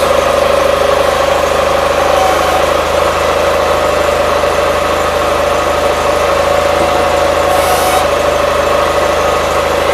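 A 1976 Gravely 816 tractor engine idles steadily and loud, a continuous close-up rumble with a strong low hum and even mechanical vibration throughout, no talk.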